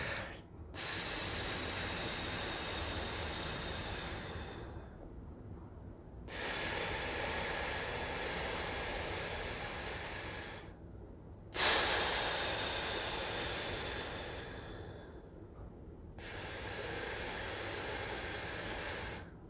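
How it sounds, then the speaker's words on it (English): Long hissing breaths through the mouth, four drawn-out exhales and inhales, each lasting several seconds with brief silences between, close and steady. "it really helps to make a hissing sound, breathing out and breathing in through a tiny straw"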